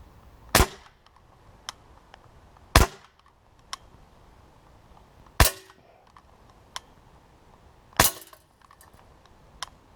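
Four sharp, loud shots from a Beretta 92 Elite 2 Umarex air pistol, spaced roughly two to three seconds apart, each a crisp crack with a brief ring, with faint clicks of handling between shots.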